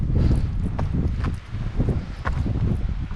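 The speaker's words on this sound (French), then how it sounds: "Là en bas, contre les arbres, on n'était pas protégé du vent." Gusty wind buffets the microphone on a hike in the Pyrénées-Orientales, a steady close rumble with footsteps crunching on the trail.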